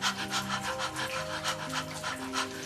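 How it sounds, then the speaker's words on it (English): Rapid rhythmic panting in a relaxation breathing exercise, quick even huffs through an open mouth like a thirsty dog, with a soft music bed beneath and no speech. "you start panting very fast like a dog who's very thirsty"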